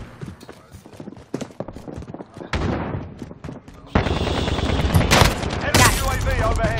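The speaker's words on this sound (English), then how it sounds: "Never tried this pistol before" Pistol gunfire in the first-person shooter Black Ops: sharp shots, some in quick bursts, crack through busy in-game battle noise that grows louder and denser in the second half.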